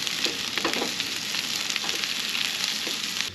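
Onions and green pepper fry in a pan on a camp stove, giving a steady, close hiss and crackle that runs unbroken with small pops and no talking.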